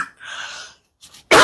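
Someone coughs during a live question-and-answer session, a few short, close throat bursts separated by brief silences, ending in a sharp, louder cough.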